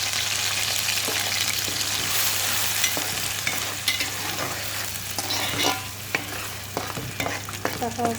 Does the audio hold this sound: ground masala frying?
yes